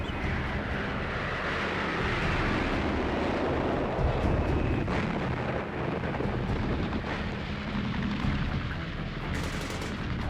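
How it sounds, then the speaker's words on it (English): Skyraider aircraft dropping napalm bombs on Viet Cong positions, a dense, continuous roar of explosions and rumbling blasts, loud and sustained with no pauses. "Sky Raiders prepare the way with their terrifying napalm bombs."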